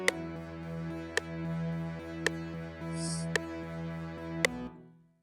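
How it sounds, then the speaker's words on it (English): A guitar part plays notes doubled in octaves over a repeating pattern, with sharp percussive clicks landing at steady intervals before it cuts off. Made in FL Studio. "And overall, it sounds like this, the guitar parts."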